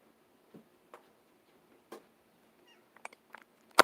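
A house cat lets out a few short, soft meows and chirps, spaced irregularly across a quiet room, with a louder bump of handling at the very end.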